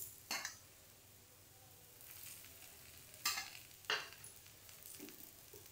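Faint oil sizzle from red pumpkin slices shallow-frying in a pan, broken by a few brief clinks and scrapes of a utensil against the pan, quiet and without voices.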